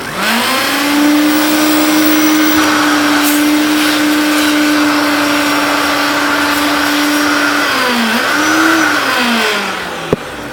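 A Hoover Turbopower upright vacuum cleaner running in boost mode gives a loud, steady motor whine close by, holding one pitch and then briefly dipping and rising near the end before it cuts off.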